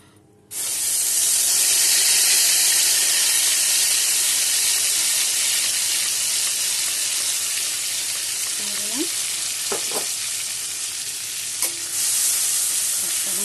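A paste of eight green chillies and an inch of ginger with a little salt hits hot oil for a rohu fish curry with gondhoraj lime. It bursts into a loud, steady, close sizzle, with a few utensil clinks near the end.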